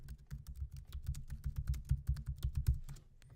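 Rapid keystrokes clatter on a computer keyboard, a quick uneven run of close, light taps with brief pauses between bursts.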